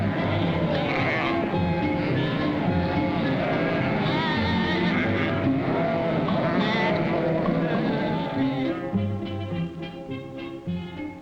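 Many sheep bleat continuously over each other, a dense flock chorus that stays loud throughout and thins slightly toward the end.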